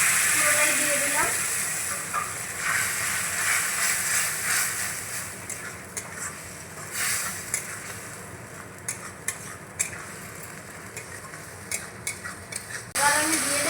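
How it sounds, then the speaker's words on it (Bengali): Tomato paste with spices such as chilli powder sizzles and fries in a pan for potol chingri, while a spoon scrapes and stirs in repeated bursts. A voice talks intermittently over the steady hiss. "ভালো করে এখন মশলাটা আবারও কষিয়ে দেব"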